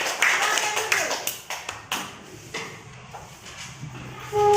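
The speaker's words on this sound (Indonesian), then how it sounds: "tepuk tangan dulu buat Arsila" Scattered clapping in a classroom for a student named Arsila, a handful of separate claps in the first two seconds that thin out into quieter room noise.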